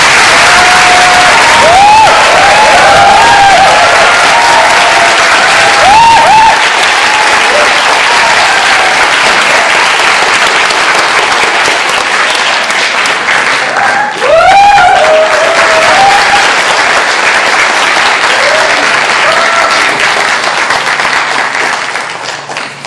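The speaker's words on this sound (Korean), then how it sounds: "큰 박수와 함께" A large lecture audience at the University of Sydney applauds to welcome the speaker: loud, sustained clapping over about twenty seconds, with a few voices and cheers breaking through and tapering slightly at the end.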